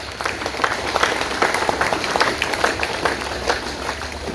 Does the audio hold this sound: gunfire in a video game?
no